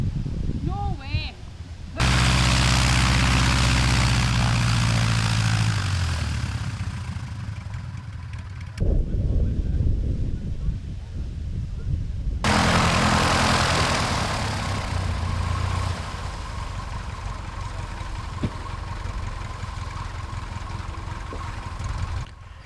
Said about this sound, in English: When you taxi in here, you've got to watch your wingtips, and when you turn around, you don't want to blast another airplane behind you.